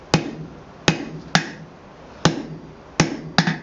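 A blacksmith strikes a steel tong blank with a large hammer, six sharp ringing blows spaced slowly and unevenly, each with a short metallic decay, close and loud with no talking.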